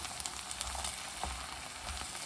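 Garlic and masala powders sizzle softly as they are stirred in a pan for a Kerala-style garlic pickle, a faint steady frying hiss with light scraping and no voices.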